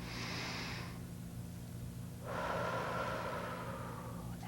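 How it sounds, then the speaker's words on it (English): A deep, relaxing breath in a calm exercise routine: a soft airy exhale trailing off, a short pause, then a longer, fuller breath drawn close to the microphone over a low steady hum. "take a nice relaxing breath"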